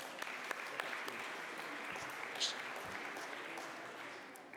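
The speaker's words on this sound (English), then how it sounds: "Another round of applause for." An audience at an awards ceremony gives steady, even applause for a winner, a soft continuous patter of clapping heard from some distance with no clear voice over it.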